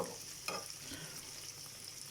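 Diced liver sizzles steadily in a hot pan, with a few soft stirring scrapes, close and quiet.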